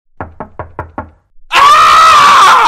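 Five sharp, evenly spaced knocks rap on a door at close range, followed after a short pause by a loud, sustained burst of noise that drowns everything out.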